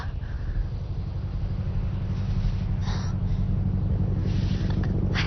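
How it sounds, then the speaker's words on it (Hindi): A steady, low rhythmic helicopter rotor thump drones throughout in an action movie, muffled and fairly loud, with faint breathy noises on top. "हेलीकॉप्टर की आवाज है, चलो।"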